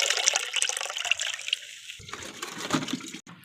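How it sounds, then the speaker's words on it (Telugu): Water pours from a mug into a bucket while mixing a homemade organic garden fertilizer, a short, close splashing gush that thins out near the end. "మనము 3 మగ్స్ ఇది పోసేసుకుందాం."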